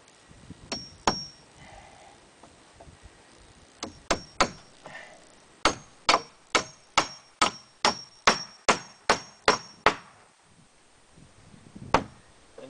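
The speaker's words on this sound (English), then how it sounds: "And I hammer at an angle because if I don't, the nails will stick out." A hammer strikes nails at an angle into Douglas fir wood in a steady series of sharp, ringing blows, a few scattered hits first, then a fast regular run before stopping.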